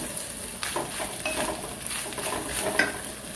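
Grated coconut roasting in a pan and being stirred, with light scraping and tapping of a spoon over a faint sizzle, close and quiet, with no talking.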